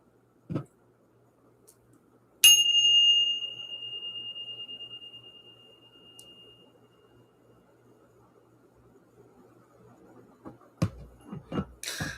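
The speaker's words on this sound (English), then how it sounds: "So let's ring the bell." A single bell strikes once, sharp and clear, and rings on with a long, steady, fading tone in a quiet room, followed later by a few soft knocks.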